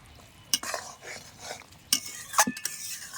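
Stirring an eggplant dish with mustard paste in a pan, a few scraping spoon strokes and light clinks against the metal with a faint sizzle beneath, close and quiet.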